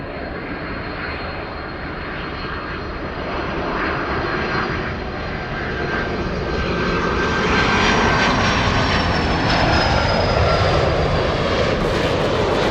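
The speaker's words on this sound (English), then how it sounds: "Let's go for the Delta 767 from JFK." A Delta 767-400 jet in from JFK at LAX, its engines a loud, close roar with a whining tone that slides in pitch as it passes, growing stronger toward the end, heard alone.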